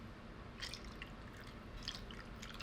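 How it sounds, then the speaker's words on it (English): Maker's Mark bourbon poured over a glass full of ice, giving faint liquid trickles and light splashing in two short bursts against a steady room hum. "Just a like half glass pour over all this ice?"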